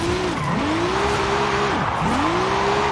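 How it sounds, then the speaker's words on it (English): A 1,300-horsepower Toyota Tacoma off-road race truck in Forza Horizon 5 revs hard and loud through repeated rising gear pulls, with brief dips between shifts and a constant high-pitched whine throughout. "that's definitely a different engine noise than the V8 that lives in here normally"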